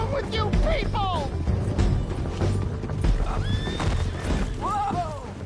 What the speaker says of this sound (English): Damn horse!